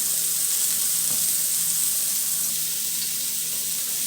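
A cheeseburger patty fries in a pan beneath a splatter screen, giving off a steady, close sizzle with a constant crackling hiss and no voices.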